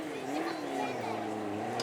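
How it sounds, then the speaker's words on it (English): A Caterham sports car with a red-top Vauxhall engine of 250 horsepower approaches at a supercar event, its engine droning steadily with rising pitch while a commentator talks over it. "It is a Caterham coming"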